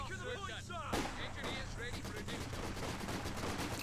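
Battlefield fire from Company of Heroes 2 with a mortar pit nearby, a sharp loud blast followed by rapid crackling gunfire and booms, under a voice talking over the action.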